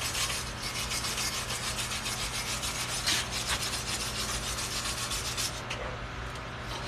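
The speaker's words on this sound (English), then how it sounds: "And this scraper is good to go down the sides to make sure you got all that unnecessary trash there." A metal scraper rasps steadily along the sides of a stick (SMAW) weld bead to clear off slag, a continuous close-up scratching with rhythmic strokes and no talking.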